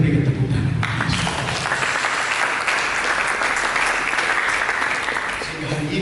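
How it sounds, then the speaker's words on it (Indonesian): A church congregation bursts into sustained applause during a sermon, dense and fairly loud, with a preacher's voice heard briefly before the clapping swells and fades. "Mari kita berikan tepuk tangan."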